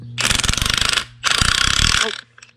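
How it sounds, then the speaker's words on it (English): Tool pulling a new idler arm bushing into the steering of a 1955 Chevy, heard as two loud bursts of rapid mechanical ratcheting clatter, each about a second long, separated by a short pause. "Pulling in the bushing of the idler arm."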